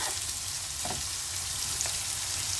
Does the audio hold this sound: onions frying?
yes